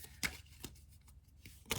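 Oracle cards being shuffled by hand, a few brisk papery riffles at the start, middle and end, fairly close and quiet with no talking.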